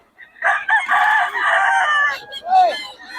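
A young gamecock (stag) crows at a fowl market in Bocaue, one loud close crow with its rising and falling call, followed by a short trailing cry and some background voices.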